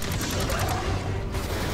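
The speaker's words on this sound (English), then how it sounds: "Wait, who's shooting at me?" Rapid gunfire in the online shooter Destiny 2 rattles in a dense, fast string of shots, loud and close over a busy game mix, with no voices.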